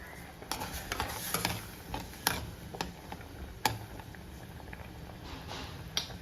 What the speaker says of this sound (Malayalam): നന്നായിട്ട് തിളച്ച് വന്നിട്ടുണ്ട്